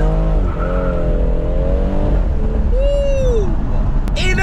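A BMW M240i engine revs loudly and rises in pitch as it accelerates, with a brief tire-like squeal near the end.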